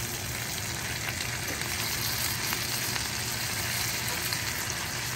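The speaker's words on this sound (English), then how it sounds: "These Italian sausages are cooking up really nice." Italian sausages in casings fry in a cast iron pan, a steady, even sizzle with fine crackle, close and moderately loud throughout with no voices.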